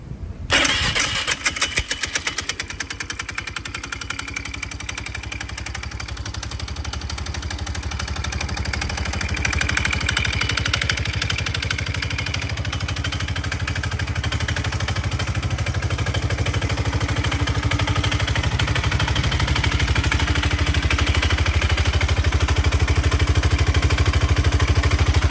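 A Polaris Sportsman 500 ATV engine catches, then settles into a steady, loud rumbling idle close by that holds without pause for the rest of the stretch.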